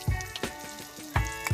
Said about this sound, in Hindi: हल्का फ्लेम रे भाजबे